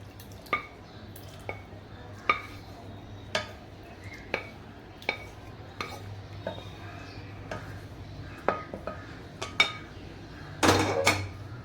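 A spoon clinks and scrapes against a mixer jar while mushroom soup mixture is spooned in, a steady series of quiet taps, ending with a brief rattling burst.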